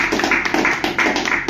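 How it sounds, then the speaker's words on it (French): Small audience at a Kill Team tabletop wargaming tournament final in France clapping for a player, a steady patter of hand claps close by. "on applaudit Rémi pour avoir participé à tous les tournois de l'année"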